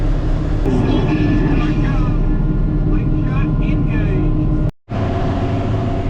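Farm tractor driving along a main road during a wet harvest, a steady close engine drone with broadband rumble that holds throughout, briefly cut out near the end.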